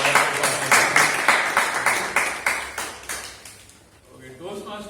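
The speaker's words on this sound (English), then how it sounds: "a huge round of applause for" Audience applause at a Toastmasters club meeting: a steady run of rhythmic claps that fades out after about three seconds, leaving a quiet room with faint voices near the end.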